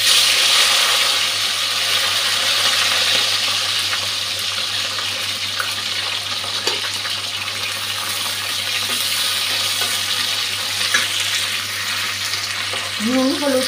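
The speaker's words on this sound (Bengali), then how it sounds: "এখন ক্যাপসিকামটা ভেজে নিচ্ছি" Capsicum fries in a pan without salt or turmeric, giving a steady, loud hiss and sizzle throughout, with faint stirring scrapes near the end and no talking.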